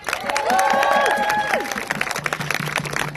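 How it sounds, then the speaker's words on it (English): A crowd at a Labour party conference breaks into a round of applause with scattered cheering voices rising over the dense clapping, close and fairly loud. "So give yourselves a round of applause for being here."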